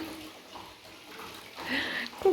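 A baby is bathed in a tub of water, with soft splashing and sloshing that builds toward the end while someone talks over it.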